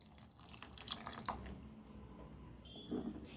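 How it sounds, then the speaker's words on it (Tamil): A cup of milk is poured into a pan for milk kozhukattai, making a faint, soft trickle with a few light drips in a quiet kitchen. "ஒரு கப்பு பால் சேர்த்துக்கலாம்"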